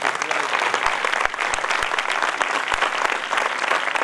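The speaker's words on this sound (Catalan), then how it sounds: "Un fort aplaudiment." Audience at an award ceremony breaks into sustained applause, a dense wash of clapping with a few sharp louder claps standing out, steady throughout with no voices over it.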